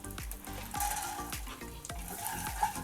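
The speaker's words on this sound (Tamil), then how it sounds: "கொஞ்சம் எல்லாத்தையும் நல்லா கொஞ்சம் வறுவிட்டோம்." Pistachios and other nuts roasting in a pan, a soft continuous sizzle with repeated scraping stirs and light clinks of the spoon, fairly quiet and close, with no talking.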